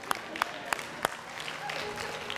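A church congregation breaks into a short, scattered burst of handclaps, four distinct sharp claps at first, then a soft murmur of the room settling with no clear voices.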